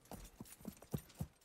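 Horse hooves trotting in the Wild West Online video game, a string of distinct clip-clop footfalls at an uneven, loping rhythm, fairly close and moderately loud with no talk.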